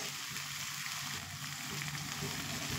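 Mashed boiled potato dropped into sizzling spiced oil in a pan while making raw mango chops, a steady close hiss and crackle of frying running unbroken throughout with no talking.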